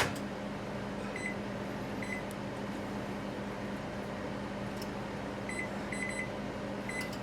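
A microwave oven hums steadily while cooking bacon, a constant droning whir with faint electronic beeps toward the end and no talking.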